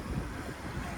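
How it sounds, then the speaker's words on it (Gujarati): Cool wind gusts across the microphone beside a lake, a steady low rumbling buffet with slight swells, loud and close, with no voices. "ઠંડો પવન આવે તડકો છે ને તોય ઠંડો પવન આવે"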